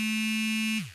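A phone rings or buzzes with a loud, steady electronic tone that holds for most of a second, then falls away.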